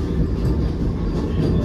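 A Vande Bharat train running, with a steady loud low rumble and faint rhythmic wheel clatter throughout.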